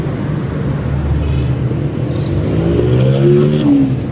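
A motorbike engine revs during a tuning job after an oil change, its pitch climbing in a steady, loud, close-up rise with no talking over it.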